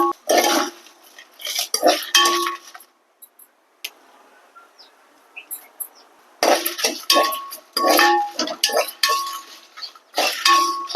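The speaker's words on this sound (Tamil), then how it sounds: "இப்போ நம்ம வந்து வரமிளகாய், இந்த மசாலா பூரா நம்ம அப்படியே சேர்த்து வறுத்துக்கலாம்" Dry red chillies and masala are dry-roasted in a hot pan, heard as bursts of metal scraping and clinking from a spoon against the pan, separated by quiet pauses, close and without talking.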